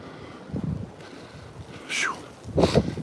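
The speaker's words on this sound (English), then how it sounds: "That wind is blowing" Gusty wind blowing outdoors near a spot where a big tree went down, buffeting the microphone in uneven rumbling gusts with brief hissy swells, no talk.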